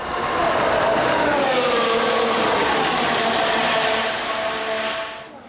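A Formula 1 car in a Lego animation roars past on track in Mexico City, a loud engine whine with a falling pitch sweep as it passes, then fading out.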